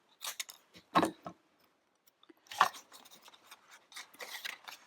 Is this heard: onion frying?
no